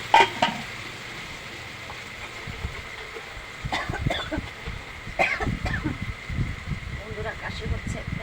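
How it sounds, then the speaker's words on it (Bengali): A person coughs from chilli tempering fumes while cooking with a fan running. A couple of sharp, close coughs come at the start, followed by talking over faint frying sounds. "কাশি হচ্ছে, ফ্যান চালিয়ে রান্না করছি তো, লঙ্কাটা ফোড়ন দিলে এই কাশি হচ্ছে।"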